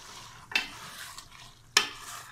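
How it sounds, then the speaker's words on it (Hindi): Chicken and chickpeas with yogurt and spices stir-fried over high heat, a soft steady sizzle broken by two sharp scraping stirs of a utensil in the pan, close up with no talking. "अब मैं इसको बहुत अच्छी तरह इसकी भुनाई करूंगी, कोई 10 से 12 मिनट तक तेज़ आंच पे"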